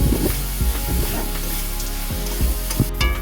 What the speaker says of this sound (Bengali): দিয়ে আমি ভালো করে কষিয়ে আলুটা দিয়ে ভালো করে নেড়ে চেড়ে কষিয়ে নিলাম